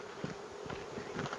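Honey bees buzz around a hive feeder in a spring apiary. A close, continuous droning hum wavers slightly in pitch, with no voices.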